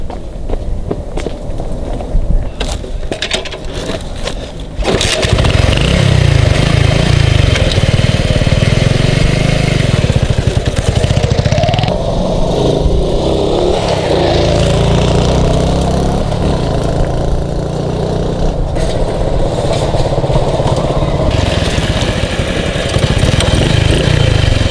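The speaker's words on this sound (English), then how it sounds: "These motorcycles are kind of small, 1 cylinder. I think that means 70cc or something." A small single-cylinder 70cc kickstart motorcycle runs close by, its steady low engine chug continuing loud and unbroken after a quieter opening few seconds.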